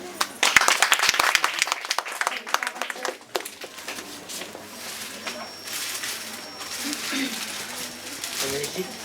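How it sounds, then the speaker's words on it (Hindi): A crowd bursts into loud applause that gradually thins into scattered clapping and murmurs. "तो उसके लिए तालियां"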